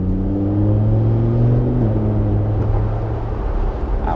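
A Lamborghini Huracan Spyder pulling away with a deep engine tone that rises in pitch and then drops as it shifts, loud and steady from inside the car.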